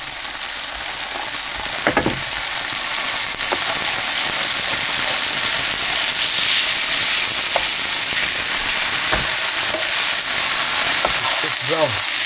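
British beef Denver steak fries in hot oil in a pan with a loud, steady, close sizzle that never lets up, with occasional soft clinks and faint talk underneath.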